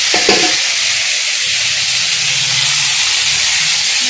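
Pumpkin fries in a pan with a loud, steady hiss and sizzle that lasts throughout, with a faint clatter of utensils near the start.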